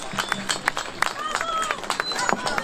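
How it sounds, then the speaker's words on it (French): A crowd at an anti-Zemmour street rally in November 2019 gives a burst of applause, with sharp irregular claps and cheers rising over outdoor background noise while a voice speaks nearby. "Un tonnerre d'applaudissements pour Béatrice Sorès"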